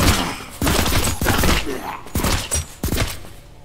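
Video game shooter gunfire: several loud bursts of shots in quick clusters, separated by short pauses, with a sharp report near the end.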